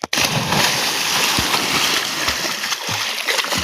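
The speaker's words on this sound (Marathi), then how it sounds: "मी पोहायला आलेलो आहे." A person swimming in water, with continuous close splashing and sloshing that holds steady for a few seconds, broken by a few dull thumps.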